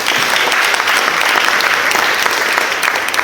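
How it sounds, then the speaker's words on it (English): Guests at a wedding reception break into steady, dense applause, many hands clapping together at close range without a pause for the whole stretch. "Round of applause to everyone for making it."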